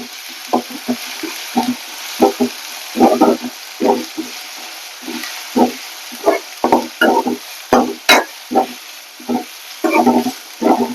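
Banana flower curry frying with ginger garlic paste sizzles steadily under rhythmic bursts of stirring and scraping in the pan, fairly close and clear.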